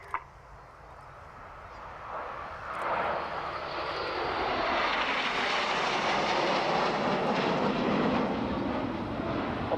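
Red Arrows jets flying in formation at the Royal International Air Tattoo air show make a broad, distant roar that swells over a few seconds into a steady, loud rushing drone.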